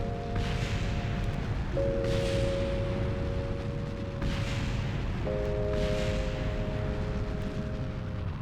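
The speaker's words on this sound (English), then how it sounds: "the second stage crashing into the surface, which is what those explosions are that you're hearing" Heavy, dense rumbling explosions of a crashing rocket stage hitting the Mun's surface in Kerbal Space Program roll continuously under steady electronic tones, with bursts swelling every couple of seconds.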